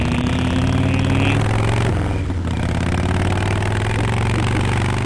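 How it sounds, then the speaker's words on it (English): A motorcycle engine from the Full Throttle video game runs in a loud, continuous drone, its tone shifting briefly partway through, with no one talking over it. "So, start the bike."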